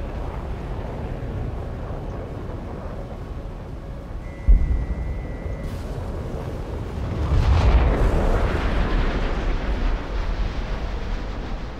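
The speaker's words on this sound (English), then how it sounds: "The missile's on its way towards us." A missile attack in an air combat video game: a sharp launch thump, then a steady roar and a swelling rumbling blast, with continuous engine and battle noise underneath and no talk.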